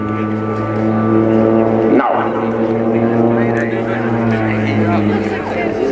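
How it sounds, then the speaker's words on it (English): A Pilatus PC-7 turboprop drones loudly at full power through an aerobatic loop, a steady harmonic roar with a brief dip near the two-second mark, and a voice talks over it. "Reverses the aircraft, full power now for the second half loop."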